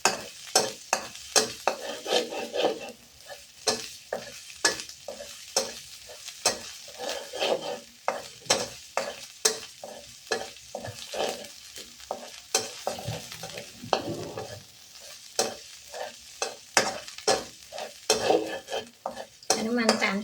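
Chili dry-roasts in a pan as a utensil stirs it in quick, irregular scraping strokes, a continuous rattling rhythm with faint sizzle, close by, for about twenty seconds.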